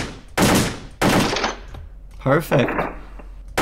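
AK47 rifle fire at a shooting range in the World of Guns game: three sharp, loud single shots spaced about half a second apart, then a short mechanical clatter and a final shot, with someone speaking briefly.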